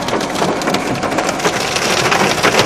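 Hail hammers down on the road and vehicles on the Statale 100 near Bari during a violent cloudburst, a loud, dense, continuous clatter with no pauses.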